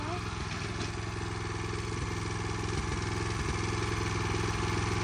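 A Rico Italy 9 HP rotavator engine runs steadily at close range, a loud, even chugging drone with rattling clatter, while a voice speaks over it.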